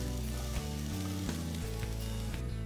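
Oil sizzles and crackles steadily as chopped onions, garlic and ginger fry in a kadai, close and continuous, with occasional stirring clicks.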